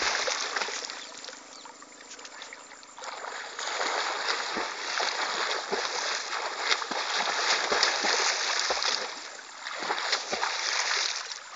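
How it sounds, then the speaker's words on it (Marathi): A swimmer in a village pond in Gadchiroli, Maharashtra, pulls arms through the water, making continuous close splashing and sloshing with repeated stroke surges and a few low thumps. "अशा प्रकारे हलवत चला आणि समोरचे हात पाण्यात असे करायचे, म्हणजे गती प्राप्त होते आणि आपण समोर जातो।"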